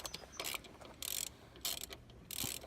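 A spanner ratchets while undoing a bolt on a 1999 Honda EJ, giving short bursts of quick metallic clicking at a close distance, with brief pauses between each pull.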